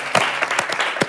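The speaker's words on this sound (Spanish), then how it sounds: "Un aplauso para Kiko." Audience applause on a Spanish talk show set, a short burst of scattered claps with a few louder individual hits, brief and moderately close.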